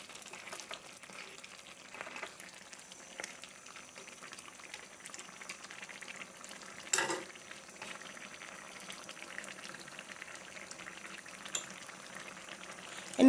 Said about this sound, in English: allow it to cook for about 5 minutes